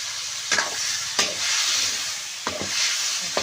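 Drumstick pods sizzle and fry in a pan for a home-style vegetable dish, a steady close hiss broken by a few sharp scraping stirs of a spoon.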